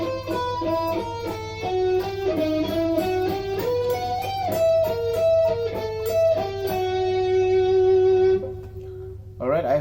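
Six-string guitar slowly works through a section of a song, one clear picked note after another with shifting pitch, close and unaccompanied, stopping abruptly at the end.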